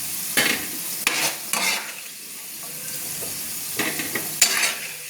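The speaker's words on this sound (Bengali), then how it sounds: "একটা চামচ দিয়ে আমি আলুটাকে নামিয়ে নিচ্ছি একটা প্লেটে।" Spoon scraping and clinking against a frying pan while lifting boiled potato onto a plate, several short metallic scrapes over a faint background sizzle.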